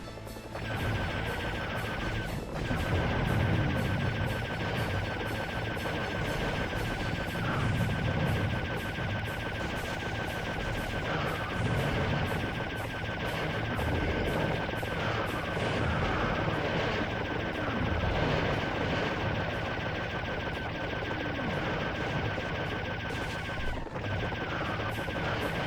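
Steady rapid weapon fire from a laser gun in a video game rattles on for nearly half a minute, with repeated sharp shots and crashing impacts over a constant electronic hum, and no talking.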